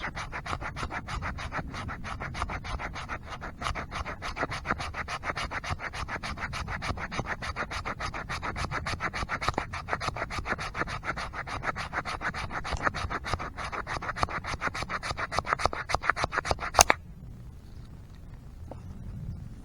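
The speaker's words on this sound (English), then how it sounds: "So I'll take the spine of my knife and I will just rub it up and down." A knife spine scraping up and down a ferro rod, producing a continuous rapid raspy scratching, close and loud, that stops abruptly near the end, with no speech.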